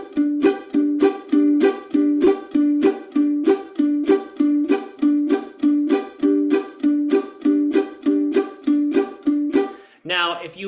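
Bluegrass mandolin playing that mixes a bass-note strum with chop chords, moving in a steady, even rhythm of evenly spaced crisp strokes over a ringing low note, close and clear, with a brief different strum at the very end.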